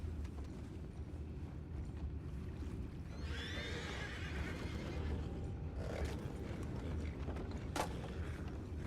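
A horse in the video game Red Dead Redemption 2 whinnies clearly in the middle, over a steady low rumble and faint hoof sounds, with no talking.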